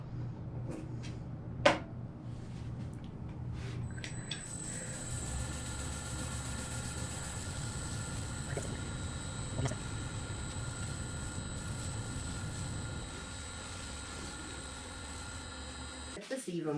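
A wood lathe spins a burl blank in a workshop, giving a steady whirring drone with a faint high whine that runs for most of the stretch, opening with a few clicks and a knock before the motor settles in.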